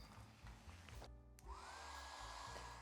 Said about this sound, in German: Jetzt föhne ich das gesamte Blatt wieder.